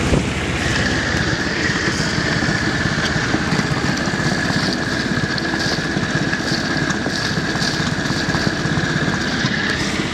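The small diesel inboard engine of a Tartan 27 sailboat runs at a steady, continuous drone with a faint tonal whine above it, loud and unbroken throughout, with no voices.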